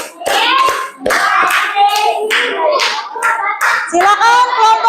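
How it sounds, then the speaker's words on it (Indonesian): Schoolchildren in a classroom clap for a presenting group, sharp claps mingled with loud, excited young voices calling out over them in bursts. "Beri tepuk tangan untuk kelompok 1."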